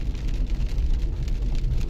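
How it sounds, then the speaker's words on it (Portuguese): Steady rain falling during a rideshare driving shift, a dense, even hiss with soft patter and no pauses, close and moderately loud. "E como vocês podem perceber, está chovendo."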